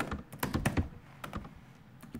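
Computer keyboard keys pressed while coding in Python, a handful of quiet, close clicks in an uneven cluster, then a few more taps after a short pause.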